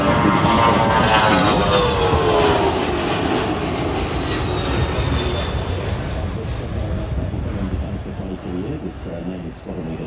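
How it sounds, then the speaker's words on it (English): A C-130J Hercules makes a short tactical takeoff at the Avalon 2025 airshow evening showcase after a Globemaster overhead pass. Its loud, droning propeller roar sweeps past and slowly fades while a commentator talks over it. "is a short tactical takeoff from the C-130J Hercules after a pass overhead from the Globemaster"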